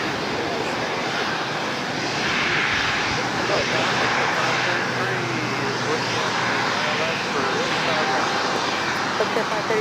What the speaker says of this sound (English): That Bombardier coming in from Oakland now crossing over as well.